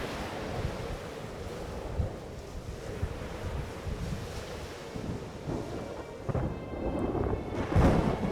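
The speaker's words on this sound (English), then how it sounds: "There's a storm brewing." In the Syberia 2 video game, a thunderstorm churns with heavy rain and deep rolling thunder under a steady wind-like roar, and a louder rumble builds toward the end.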